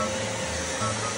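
A vacuum cleaner runs with a steady, close whooshing drone and motor hum, continuous and unbroken for the whole short stretch.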